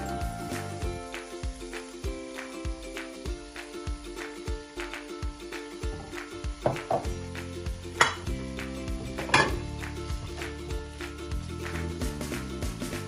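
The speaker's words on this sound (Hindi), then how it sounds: "अब इसमें आलू डालते हैं।" Potatoes frying in less than half a cup of hot oil in a pan, a steady close sizzle under scraping and clinking of a utensil against the pan, with a couple of sharper metallic knocks.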